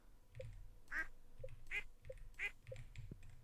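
Ducks in the video game Stardew Valley quack in short nasal bursts, four distinct calls spaced roughly evenly, fairly loud and close over a low rumbling background.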